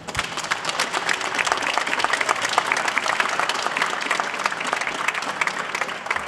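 An audience applauds the CNES scientists, a dense, steady wash of many hands clapping at close range that holds evenly loud throughout with no one speaking.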